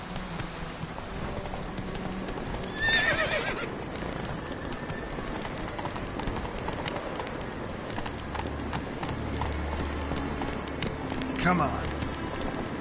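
Roach, a horse in The Witcher 3, clops along with steady hoofbeats under the game's ambient sound, with a brief whinny and someone speaking briefly.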